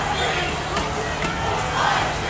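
A protest crowd against ICE in Minneapolis roars outdoors, a dense continuous wash of many voices shouting and chanting at a steady loud level.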